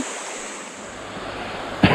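A river flowing beside WW2 Japanese bunkers gives a steady broadband wash of rushing water, close and continuous, with a brief louder splash or knock near the end.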